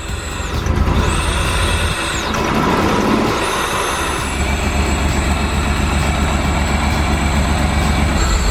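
A Pontiac Fiero kit car engine, restored after 15 years abandoned, is blipped twice under throttle, its pitch sweeping up and back down each time before settling into a loud, steady idle rumble.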